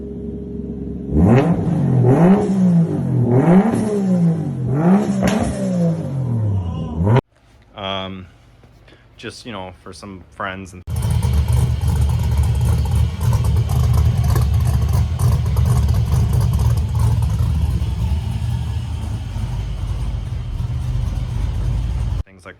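After someone speaks, a car in a home repair shop starts and runs, its engine roaring with rising revs and then holding a loud, steady rumble close by for the rest of the clip.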